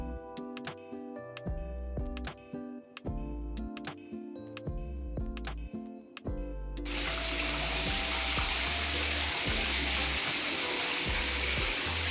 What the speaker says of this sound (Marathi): तुम्ही इथे पाहू शकता कशा प्रकारे पाणी वरून येत आहे